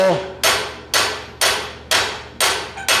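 A blacksmith strikes hot metal with a hand hammer while upsetting the stock with a monkey tool at a smithing conference. Six loud, ringing blows land about every half second, close and evenly paced, each leaving a short metallic decay.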